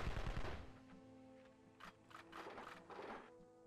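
Turret guns in the video game Evil Genius fire a quick close burst, followed by fainter scattered shots and mechanical clatter at low level.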